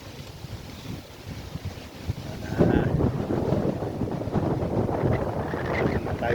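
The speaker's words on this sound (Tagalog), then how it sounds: "mahangin. Mahangin man." Wind gusts roar against the microphone outdoors during a bicycle ride, growing louder and more blustery partway through, with faint talk mixed in.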